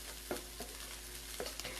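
Food fries on a Nesco everyday induction cooktop, a soft steady sizzle with a few stirring scrapes and knocks from a utensil in the pan, close and fairly faint, no talking.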